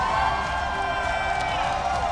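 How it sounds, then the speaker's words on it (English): A League of Legends esports arena crowd applauds after a match win, a steady, dense patter of clapping and cheering that stays level throughout, with a voice talking faintly underneath. "the crowd respectfully giving them some applause after that win over the team that is the hometown favorites in CLG"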